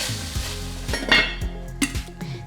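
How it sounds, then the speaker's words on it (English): A lid clanks onto a pot of simmering black beans, a few close metallic clinks and knocks over a steady sizzle and bubbling on the stove. "And then it gets lidded."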